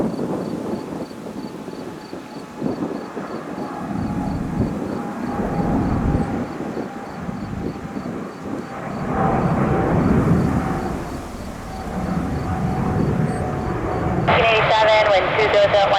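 An airliner taking off at JFK Airport, a broad distant jet roar swelling and rumbling under wind buffeting, with radio chatter and talk over it and a faint intermittent beeping throughout.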